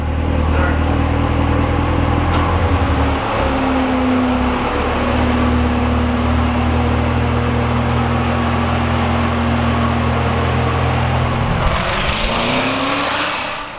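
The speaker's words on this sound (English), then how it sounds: "I just heard Skylar take off." A 2016 Corvette Z06 engine drones steadily nearby, then revs and rises in pitch as it pulls away.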